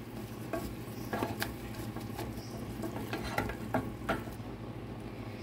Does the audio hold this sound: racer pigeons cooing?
no